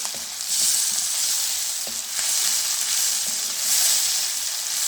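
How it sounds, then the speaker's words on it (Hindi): Tomatoes, green chilies and onions sizzle steadily in a hot pan, a continuous bright crackle with faint stirring clinks, close and alone with no talk. "टमाटर को हम अच्छी तरह भून लेंगे।"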